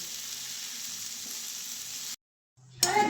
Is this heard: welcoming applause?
no